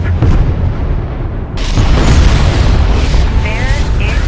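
Explosive charges detonating in the real-time strategy game Homeworld: Deserts of Kharak: a loud, sustained booming blast swells suddenly and rumbles heavily, with a game voice speaking over the noise.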